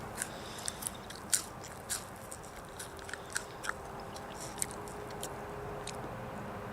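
A raw garden onion stalk is chewed up close, with crisp bites and a steady run of crunchy, fibrous chewing over a quiet outdoor background, no talking.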